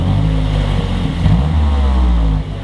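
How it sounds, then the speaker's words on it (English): A Mazdaspeed 3 on its stock exhaust, heard close and loud as a low, droning engine note that swells once in a brief rev before settling back to idle. "I'm so tired of my MazdaSpeed 3 sounding like this."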